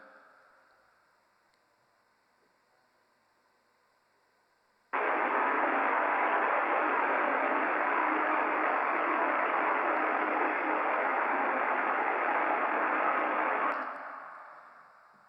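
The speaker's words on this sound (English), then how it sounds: "the issue with the grease defect means under lubrication in the bearing." Recorded sound of an under-lubricated bearing with a grease defect: a steady, loud broadband hiss-like rush that begins abruptly after a quiet stretch and holds evenly for about nine seconds before fading.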